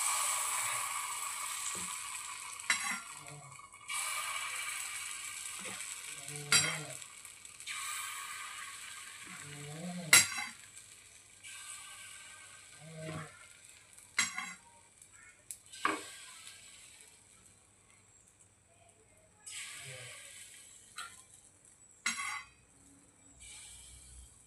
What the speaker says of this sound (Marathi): आता आपण यामध्ये बॅटर टाकूया